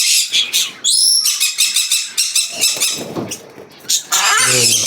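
Many sparrows in a pet store chirp and flutter nearby in loud, overlapping bursts of sharp tweets and squeaky calls, with short pauses between flurries.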